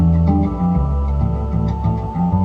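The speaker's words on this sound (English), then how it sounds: "I took the organ from the B section and I put that in the intro" An organ part lifted from a song's B section plays through a low pass filter, muffled and warm, with shifting sustained chords and a steady low end throughout, no talking.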